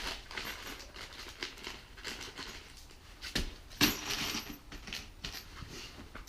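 Small metal hardware parts for a Jeep Wrangler bumper and winch install clink and rattle faintly in a bag or box as they are handled. The light jingles are irregular, with louder clinks near the middle.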